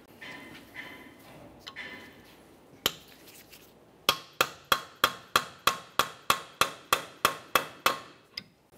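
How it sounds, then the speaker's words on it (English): Hammer and punch drive against the axle nut at the centre of a front wheel hub on a 2011-2020 Toyota Sienna, a loud, close metallic ringing: one lone blow, then a steady, evenly paced run of about fifteen hard strikes. "you want to use a hammer and punch directly in the center to break this free"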